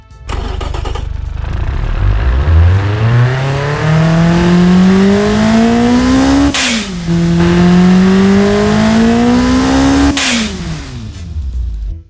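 Simulated Ford 1.5L EcoBoost engine in the Automation car game, loud and up close, revving toward 8,800 RPM in long rising sweeps that cut off sharply twice before climbing again.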